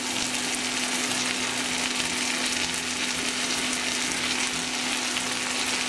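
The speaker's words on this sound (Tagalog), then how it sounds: "Igigisa pa natin to ng ilang minuto pa." Green beans and pork sauté together in a hot pan, producing a loud, continuous, even sizzle with a faint steady hum beneath it and no talking.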